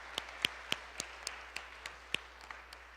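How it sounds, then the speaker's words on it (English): A handful of sparse, separate claps for school staff at a middle school event, irregular sharp hits a few tenths of a second apart over a quiet room background. "Please help me give them a round of applause."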